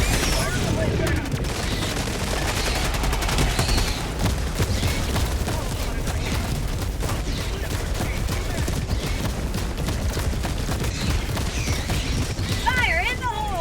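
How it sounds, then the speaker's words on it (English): Dense, continuous battle noise from Helldivers 2: sustained gunfire and fusillade bursts with booming impacts from an air support strike, loud and busy throughout, with a voice speaking over it. "Requesting air support. Fire the way down."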